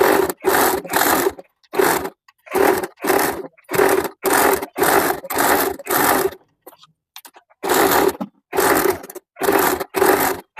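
A sewing machine stitches plain fabric in short, loud whirring bursts, each lasting about half a second, separated by brief silences. The bursts fall in a fairly regular stop-start rhythm, with one longer pause partway through.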